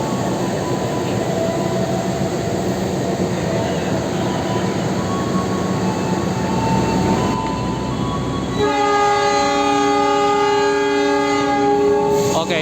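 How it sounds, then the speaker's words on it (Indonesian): An Indonesian passenger train hauled by a CC 206 locomotive rumbles along the railway close by, with loud continuous rolling noise, and a sustained multi-tone horn sounds strongly toward the end. "ini di sebelah kereta api Jayakarta ya, diberangkatkan ke arah Surabaya Gubeng"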